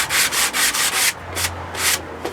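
Rubber sanding block rubbed back and forth over rough pallet wood, a steady series of about eight scratchy strokes, close and loud, slowing near the end.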